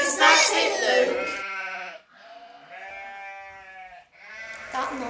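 Sheep bleating in a field near Bethlehem, several drawn-out wavering calls one after another, loud and close, with no talk over them.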